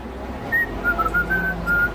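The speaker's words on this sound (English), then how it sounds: "and he whistles to the side." A man whistles a short run of clear, thin notes, a few brief tones in quick succession, close and alone with no talking.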